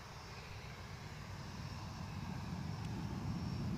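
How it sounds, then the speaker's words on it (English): An airliner on an inbound flight from Faro lands at Newcastle airport, its engines a faint, distant, broad roar that swells slowly and steadily with no voices over it. "second landing of the show, this inbound from Faro"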